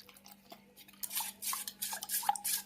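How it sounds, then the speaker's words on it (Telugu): Cornflour and water batter stirred by hand in a bowl to smooth out lumps, with soft scraping and light clinking strokes that come in quick, irregular bursts after a quiet start. "ఉండలు లేకుండా మొత్తము కలుపుకోవాలి."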